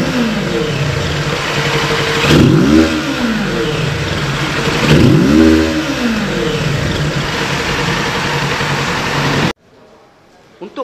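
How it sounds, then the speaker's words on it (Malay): A Kawasaki Ninja 650 motorcycle fitted with a replaced exhaust idles loudly nearby and is revved twice in sharp, rising and falling bursts before the sound cuts off abruptly near the end. "So jom kita dengar bunyi motor Ninja"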